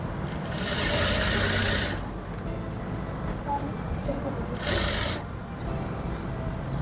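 Sewing machine with a single presser foot stitching piping along a kurti side slit up to just above the hip, in two bursts of whirring separated by a quieter pause.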